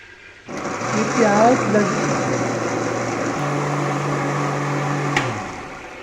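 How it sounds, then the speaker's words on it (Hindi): An electric grinder whirs steadily as it grinds onion, garlic, ginger, green chili and a small tomato, a loud motor drone lasting several seconds that shifts pitch partway through before cutting off. "ये प्याज लहसुन अदरक हरी मिर्ची और छोटा सा टमाटर जो मैंने आपको दिखाया था, ये ग्राइंड हो गया"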